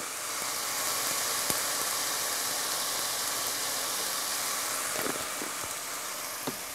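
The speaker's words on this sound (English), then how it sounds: "So we're going to take our rice, add it to the pan." Rice dusted with garlic powder fries in a hot pan at a homestead kitchen, giving a steady, even sizzle and hiss throughout, with a few small clicks and stirring knocks near the end.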